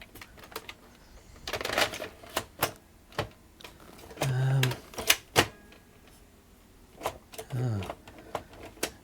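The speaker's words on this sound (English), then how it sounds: "Perhaps we'll try loading a tape, see if that works." A tape being loaded into a Panasonic NV-FS88 VCR, with mechanical clicks, clacks and a couple of short whirring motor bursts, close and moderately loud, while a person talks.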